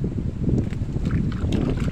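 Strong wind buffets the microphone on an open fishing boat at sea, a dense low rumble with splashing water underneath.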